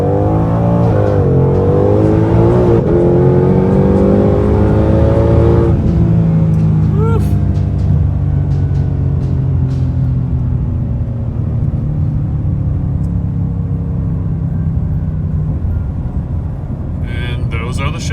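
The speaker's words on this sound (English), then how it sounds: "We're just going to give it gas, and you'll see the shift lights up on the windshield." A 2020 Shelby GT500 in track mode pulls away from a stop with a loud, close engine roar rising in pitch through several shifts, then settling into a deep steady rumble. Someone talks over the engine.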